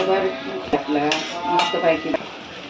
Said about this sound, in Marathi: दोन मिनिट झालेत आता झाकण काढूया